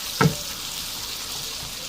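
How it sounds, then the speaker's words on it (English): Ground beef frying in a pan gives a soft, steady sizzle close by, with one brief louder clink near the start and no talking. "So I'm cooking up the ground beef."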